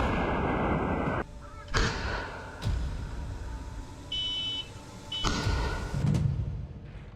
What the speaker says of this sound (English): Footage published by the Ukrainian 53rd Separate Mechanized Brigade shows a huge explosion in a field